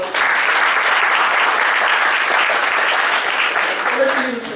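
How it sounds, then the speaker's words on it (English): An audience applauds a guest speaker being welcomed onstage at a talk on careers in chartered accountancy, a steady, dense wash of clapping that stays loud throughout and tapers slightly at the end. "with a big round of applause"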